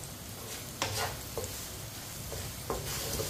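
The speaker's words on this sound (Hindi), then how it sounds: "इसी तरह चम्मच चलाते हुए पकाएं।" Spices cooking gently in a pan on very low heat, stirred with a spoon: a soft, faint sizzle with occasional light scrapes, no voices.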